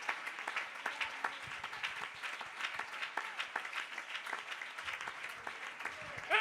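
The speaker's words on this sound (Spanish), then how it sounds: "Fuerte ese aplauso para este Dios maravilloso." A church congregation claps and applauds together during a worship service, a steady, moderately loud patter of hands that carries through the whole stretch, with a voice speaking faintly over it.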